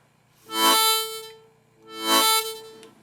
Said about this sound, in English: So you get a chord leading to a single note.